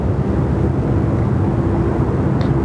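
Qantas 840 airliner taking off at Sydney Airport, bound for Darwin, a loud, steady, broad engine roar with deep rumble that stays constant throughout, with no voices over it.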